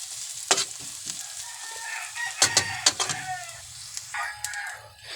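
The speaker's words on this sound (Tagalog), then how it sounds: "palulutuin po muna natin tong bawang at sibuyas" Garlic and onion fry in a pan with a constant sizzling hiss, broken by scraping stirs. A rooster crows and clucks nearby, loud over the cooking, with no speech.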